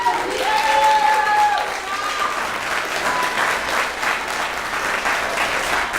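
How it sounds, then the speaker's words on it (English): An audience applauds the hosts at a Modesto Barnstorm event, a steady, fairly loud round of clapping from a room of people, with a few voices faintly audible underneath. "Give them a round of applause."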